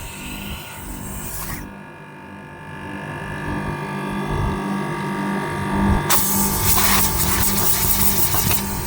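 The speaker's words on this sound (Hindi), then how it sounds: "यानी अब आपका कंप्रेसर चालू हो चुका है।" An air conditioner outdoor unit compressor running, a steady low mechanical hum with a pulsing drone, overlaid by bursts of hissy broadband noise at the start and again toward the end.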